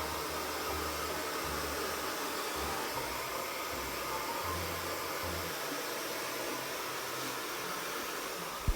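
A hair blow dryer running during a home-service rebond Brazilian hair treatment, a loud, steady close whooshing roar with slight fluctuations as it moves, no talking.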